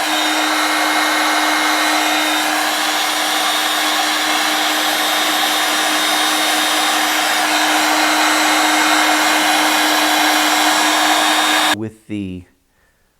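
A heat gun shrinks heat shrink tubing on a GM engine wiring harness, giving a loud, steady blowing hum that runs unbroken for about twelve seconds, then cuts off abruptly, leaving brief clatter.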